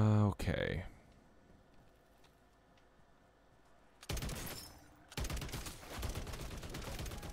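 Gunfire from a gun in MW3 Zombies comes in dense, loud bursts of rapid shots after a quieter stretch, with a brief pause between volleys.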